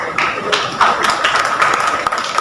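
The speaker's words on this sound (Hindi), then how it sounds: "ताली बजाओ तो साथ में मिलकर बजाओ" A crowd at an outdoor political rally in Dindoshi, Mumbai claps in scattered, uneven bursts, a steady patter of hands with a raised wave near the middle. The applause holds fairly loud and continuous throughout.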